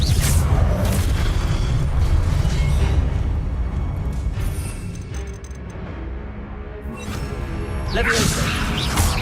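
In the Hogwarts Legacy video game, the Expelliarmus spell is cast as a loud, booming blast with sweeping whooshes. A second rushing swell comes near the end.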